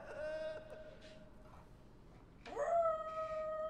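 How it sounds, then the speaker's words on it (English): A dog howls indoors, giving two long drawn-out howls separated by a quiet gap. The second howl swoops upward and comes in louder. No one speaks. "I got Ellie howling"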